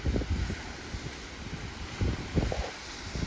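Steady wind blowing outdoors along the coast near Rockport, Texas, buffeting the microphone in low rumbling gusts that swell and fade, with no voices.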